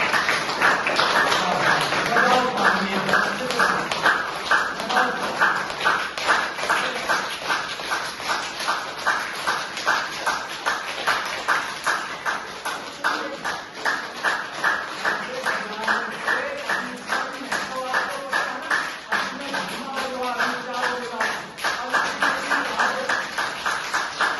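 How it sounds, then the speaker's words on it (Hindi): A yoga group in Jhajjar claps together in a steady, fast, rhythmic beat that keeps going for about twenty-four seconds, with voices faintly audible under the clapping. "सभी को एक बार हर्ष और गौरव के लिए और अपने लिए क्लैपिंग करो"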